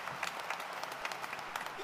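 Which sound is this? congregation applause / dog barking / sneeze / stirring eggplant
congregation applause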